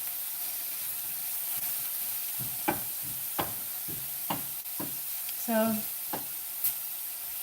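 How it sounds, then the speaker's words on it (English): Food sautés in a frying pan with a soft, steady sizzle and hiss under intermittent talking, plus a few light clinks of stirring. "So we're going to saute these a bit."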